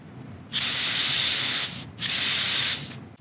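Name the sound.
aerosol penetrating oil spraying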